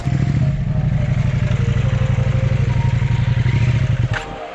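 An adventure motorcycle engine runs steadily up close at idle with a throbbing low rumble and light mechanical clatter, cutting off near the end with a brief knock.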